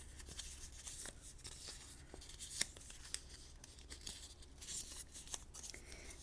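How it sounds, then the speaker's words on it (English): A paper treat box being folded along its score lines, giving faint, intermittent crinkles, creases and small taps over a low steady hum, close and quiet with no talking. "Then I'm going to fold this along the score lines."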